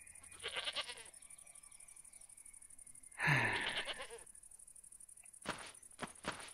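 Goats in Goat Petting Simulator, a video game, give a few short bleats separated by quiet gaps, with a steady high electronic tone running underneath.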